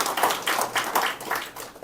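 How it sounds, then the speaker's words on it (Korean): A church congregation claps together in a short burst of applause, a brisk rhythmic patter at moderate volume with no voices over it. "박수."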